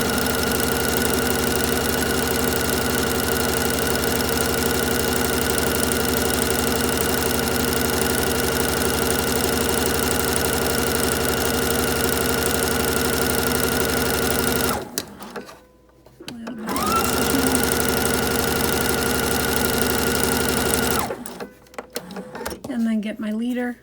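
A domestic sewing machine chain-pieces T-shirt quilt strips in a steady, loud, close whir, stopping briefly twice before the motor starts running again.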